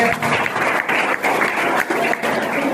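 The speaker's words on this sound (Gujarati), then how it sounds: "જોરદાર તાળી દઈએ." Audience at a JCI quiz competition in Balasinor breaks into steady applause, a dense wash of clapping from a crowd that holds at even strength for the whole stretch, with a faint voice underneath.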